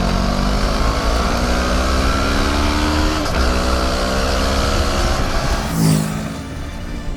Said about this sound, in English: the new Ninja 650 sounds rowdier than ever